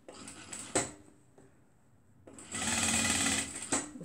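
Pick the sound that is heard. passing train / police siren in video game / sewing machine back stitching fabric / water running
sewing machine back stitching fabric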